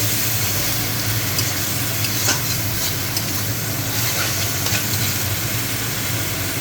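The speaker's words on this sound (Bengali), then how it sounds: "ভেজে নেব" Chili peppers fry in hot oil with a dense, loud, constant sizzle and hiss, alone and steady from start to finish.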